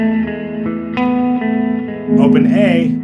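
Guitar riff played with open strings through effects: sustained ringing notes with a few plucked changes, then a brighter, busier chord strum near the end, echo and chorus coloring the tone.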